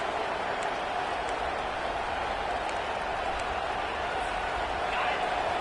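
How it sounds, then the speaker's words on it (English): Stadium crowd in an NCAA '25 football game, FSU versus Miami rivalry, roaring steadily and loudly throughout with a dense wash of cheering, under faint commentary. "Listen to this crowd just shaking the girders of this place"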